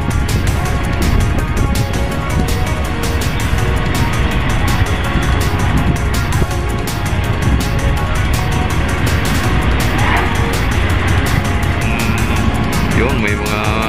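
Motorcycles ride off a docked passenger ship at port, their engines blending into a steady, dense wash of vehicle and crowd noise that runs without pause.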